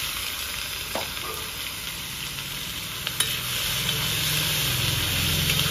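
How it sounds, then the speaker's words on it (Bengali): Dried red chillies, cinnamon, cloves, green cardamom, whole cumin and onion fry in hot oil with a steady, loud sizzle and a couple of faint clicks, no voices. "দুটো শুকনো লঙ্কা, ডালচিনি, লবঙ্গ, ছোট এলাচ, গোটা জিরে একসঙ্গে দিয়ে দিচ্ছি। পেঁয়াজটাও দিয়ে দিচ্ছি।"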